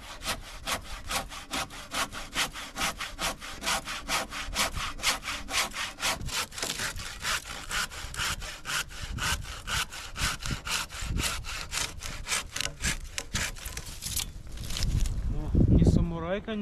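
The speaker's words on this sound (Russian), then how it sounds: "Нашли тут сушинку. Сейчас распилим." A hand saw cuts through a dead, dry tree in the forest with fast, even back-and-forth strokes, close and rasping. A voice is heard faintly under the sawing, and a louder knock comes near the end.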